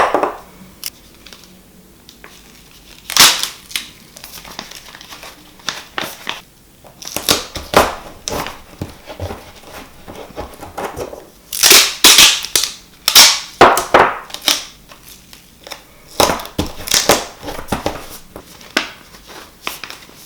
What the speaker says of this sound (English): close the top with the more gaffer tape